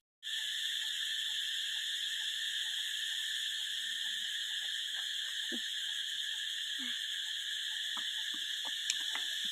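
Cicadas buzz in a loud, continuous, high-pitched drone that holds steady throughout, with faint scattered clicks and rustles underneath.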